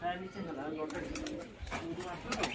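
A domestic male pigeon coos in soft, low repeated calls, close by, while a person talks over it.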